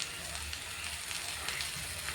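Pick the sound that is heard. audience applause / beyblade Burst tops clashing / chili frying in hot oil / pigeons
chili frying in hot oil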